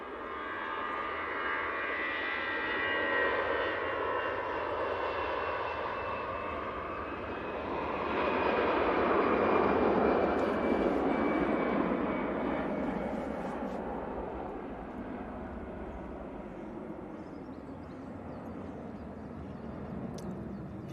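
An Etihad airliner at Manchester Airport gives off a distant, steady jet engine roar that swells gradually, peaks midway, then eases off while staying audible to the end.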